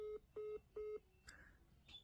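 A phone call ends with three short, evenly spaced disconnect beeps, clear and close, followed by a couple of faint electronic chirps.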